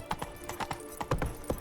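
Horse hooves galloping in The Witcher 3, a steady run of loud, close clip-clop beats at a brisk rhythm, with no talking over them.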